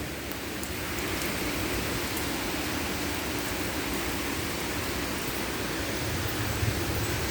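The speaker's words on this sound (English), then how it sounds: "all the rain is constantly blowing in my face" Heavy rain pours down steadily in a severe thunderstorm in southeastern Pennsylvania, a dense, constant roar of downpour blown by wind, loud and close throughout with no voices.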